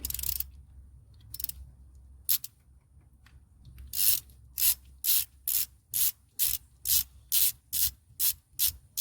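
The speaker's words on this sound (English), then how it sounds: "ratchet again. I'm using a 13/16 socket for that big nut" Ratchet clicking as a 13/16 socket turns a big nut on a Ford 7.3 Power Stroke diesel engine, with about ten evenly spaced bursts of sharp ratcheting strokes, close and fairly loud, following a few scattered earlier clicks.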